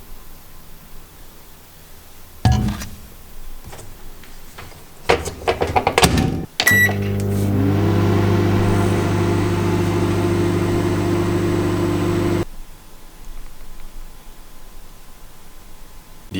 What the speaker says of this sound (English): put this thing in the microwave for 7 minutes